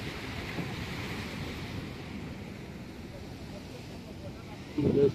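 Sea waves surge and wash continuously against the shore at Dwarka, under gusty wind noise, with a brief louder burst near the end; no clear speech.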